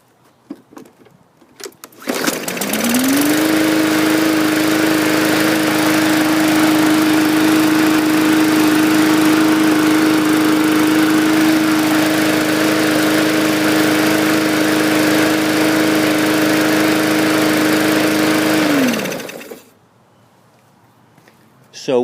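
A primed walk-behind lawn mower engine catches after a couple of pulls and runs at a steady, loud, close drone for about sixteen seconds before cutting out and winding down to quiet.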